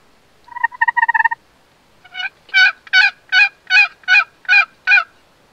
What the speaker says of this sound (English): We hear some turkeys clucking off in the distance